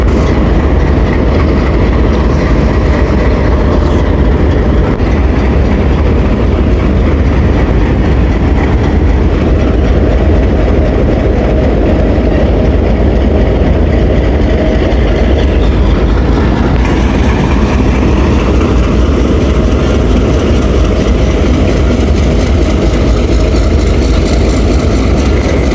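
A diesel railcar train on the Rawalpindi to Lahore route rumbles loudly and close by, its engine droning with a steady clatter of wheels. Partway through, the rumble shifts as the train slows and comes to a halt, leaving the engine idling.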